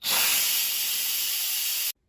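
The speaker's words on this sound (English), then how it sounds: "so let's quick release the steam." An Instant Pot venting steam on quick release after pressure cooking cherry tomato sauce, a steady loud hiss lasting about two seconds before cutting off abruptly.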